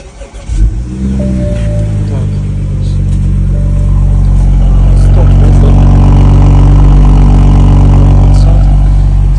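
A BMW X1 with a stock engine and exhaust cranks and catches, then settles into a loud, steady idle with a deep rumble that holds to the end.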